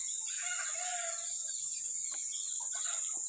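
On a farm, a rooster's drawn-out crow rises and falls against steady high-pitched insect or background hiss, with scattered clucks from chickens following at a moderate distance.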